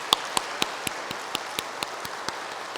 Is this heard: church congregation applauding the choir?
yes